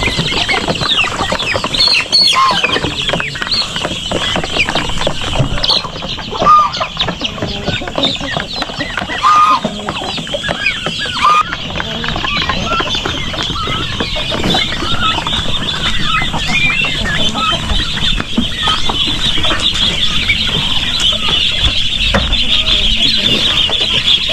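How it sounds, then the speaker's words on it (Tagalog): Male ducks on a farm give repeated quacking and clucking calls among other fowl, over a constant noisy outdoor background, with some voices now and then. "Ito naman yung mga lalaking itik."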